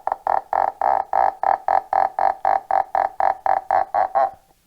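Yarn is pulled through a paper cup noisemaker while being squeezed with a paper towel, giving about fifteen evenly spaced, loud creaky squawks like a croaking frog or creaking door, each short and rhythmic, ending abruptly.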